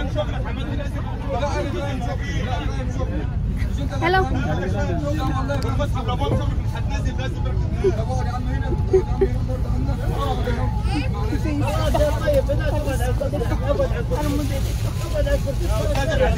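Bus passengers crowd together arguing over seats, a dense hubbub of overlapping voices over the steady rumble of a vehicle interior, continuous and fairly loud throughout.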